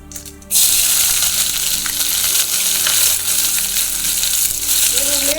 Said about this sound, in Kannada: ಮೀಡಿಯಮ್ ಉರಿ ಇಟ್ಕೊಂಡು ಸ್ವಲ್ಪ ಫ್ರೈ ಮಾಡ್ಕೋಬೇಕು.